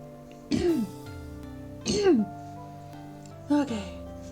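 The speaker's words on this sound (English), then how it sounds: "Clear my throat up a bit." Three separate throat-clearing bursts from a streamer about two seconds apart, each a short rasping rumble that rises and falls, heard close to the microphone against a quiet, faintly humming room.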